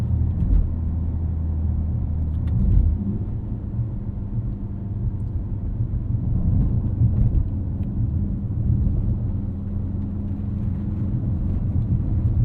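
A 2025 Mercedes-AMG GLC 63 S E Performance drives over a rough road with softened suspension, heard from inside as a steady low rumble of road and tire noise with faint bumps and knocks throughout.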